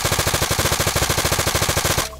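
Sustained automatic gunfire from the video game Arma 3, set on the Chernarus map, a rapid even burst of loud shots for about two seconds that then cuts off abruptly.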